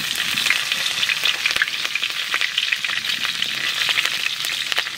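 Green chillies sizzle steadily in hot oil in a home kitchen, a dense, continuous frying hiss with occasional sharper crackles, close and fairly loud with no talking.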